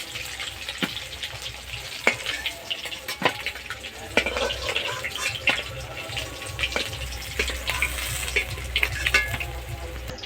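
Fish sizzling in hot oil in a pan during a home fish curry, a steady crackling fry with scattered sharper pops and stirring clicks throughout, close and fairly loud, no talk.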